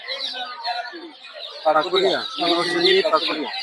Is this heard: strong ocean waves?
no